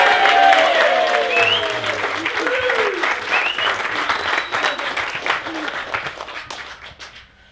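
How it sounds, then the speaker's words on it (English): Wedding guests break into loud, sustained applause at a reception, a dense wash of clapping from a full room with a few whoops, gradually thinning and fading out at the end. "can everyone join me and give me a big round of applause"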